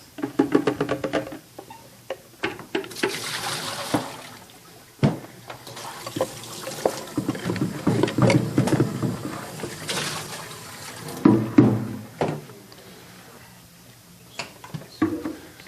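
Warm water runs and splashes while an ice cream maker is rinsed out at a sink, a steady trickle broken by louder sloshing bursts, close and continuous, with no talking.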